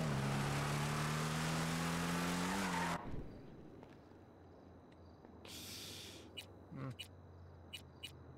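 Tires squeal as a car drifts in the game Shadow Punk, a loud sliding screech over engine drone that stops abruptly, followed by quieter ambience with a few short bursts and clicks.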